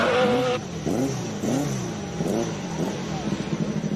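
A hill climb race car engine screams up to around 11,000 RPM, rising in repeated sharp revving bursts between gear changes, heard loud and close at a racing event.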